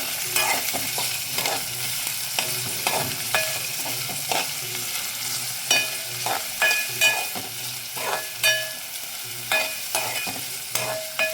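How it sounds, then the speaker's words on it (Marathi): Onion being sautéed in a pan with a spoon, making steady sizzling under repeated scraping, tapping stirring strokes, close and moderately loud. "हे बघा मी कांदा यात घातला आहे आणि आता हा छान असा परतून घ्यायचा आहे आपल्याला।"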